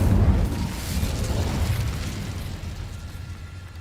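An Incendio fire spell in Hogwarts Legacy bursts with a deep, rumbling whoosh that starts loud and slowly fades over about four seconds, with no speech over it.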